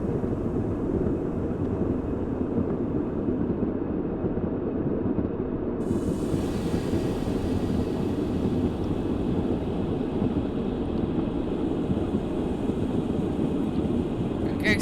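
A Class 37 diesel locomotive in the Diesel Railcar Sim train simulator, running at night as the throttle is eased back to idle, with a loud, steady low engine rumble throughout and a brighter hiss joining about halfway through.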